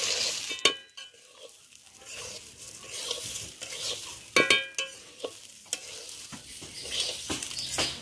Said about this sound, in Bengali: চালটা ভালো করে ভাজা হয়ে গেছে